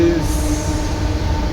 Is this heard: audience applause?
no